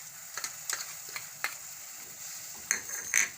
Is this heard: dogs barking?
no